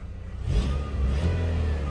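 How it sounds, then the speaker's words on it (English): Car engine revved briefly with a little gas during a radiator flush, a steady mid-pitched rumble rising slightly and holding for about two seconds, close by with no talking. "and then you could give it a little gas"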